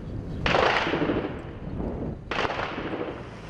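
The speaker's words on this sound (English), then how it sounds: "And more gunfire." Gunfire during fighting in eastern Ukraine: two bursts of distant shots with a rumbling tail, the second starting after a short lull, heard outdoors with no talk.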